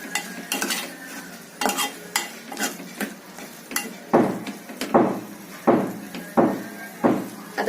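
Dried shrimp (suki kardi) mixture stirred in a pan, a spoon scraping and knocking in steady strokes, close and fairly loud, with a light sizzle between the strokes.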